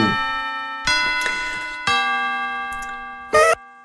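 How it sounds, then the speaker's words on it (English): A series of bright, ringing school bell chimes strikes several times, each tone sustaining and overlapping into the next, with a final louder strike. "I hear the school bells are ringing"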